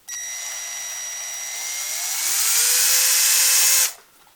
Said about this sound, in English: I'm just going to grab a drill bit here and